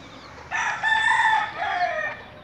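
A hen with chicks outdoors on a morning walk in Cebu, giving loud, nearby drawn-out calls in two bursts after a short quiet start, with no talking.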